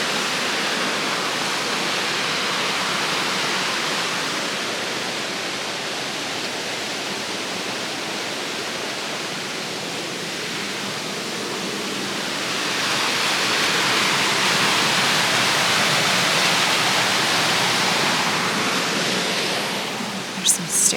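A steady roar of rushing water from a waterfall in Great Smoky Mountains National Park, broad and constant, swelling slightly louder near the end with a few faint clicks.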